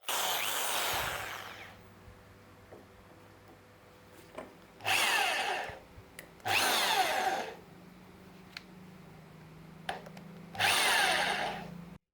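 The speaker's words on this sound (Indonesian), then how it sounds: "saya akan coba pengeboran maksimal di 13 mili" A Hasston ART.3075 impact drill bores a 13 mm hole in four loud, rough bursts of a couple of seconds each, with quieter pauses and small clicks between runs, close to the listener.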